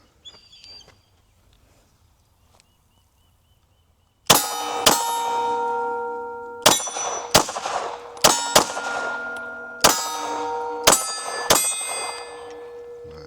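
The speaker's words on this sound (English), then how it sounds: "We about to shoot some steel." Rapid pistol shots ring off steel targets at an outdoor range, each crack followed by a bright metallic clang, in an irregular string of about eight impacts after a quiet start.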